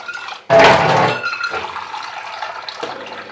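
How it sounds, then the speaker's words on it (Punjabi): Water is poured into vermicelli while making seviyan with desi ghee, a sudden loud rushing splash that settles into a steady, softer trickle for several seconds, close by with no talk. "ਤੇ ਹੁਣ ਆਪਾਂ ਇਹਦੇ ਵਿੱਚ ਪਾਵਾਂਗੇ ਪਾਣੀ"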